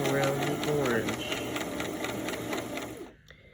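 A sewing machine top-stitches fabric with coordinating thread, a rapid, close mechanical whir that stops near the end, with a voice speaking over it.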